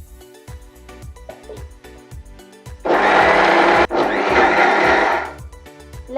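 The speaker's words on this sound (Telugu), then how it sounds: "ఇందులో స్వీట్ కార్న్ కూడా వేసుకొని మిక్సీ పట్టుకోవాలి." A kitchen mixer grinder grinding sweet corn starts after a run of soft rhythmic tapping. It roars loudly for about two and a half seconds, with a brief stutter partway through, before cutting off.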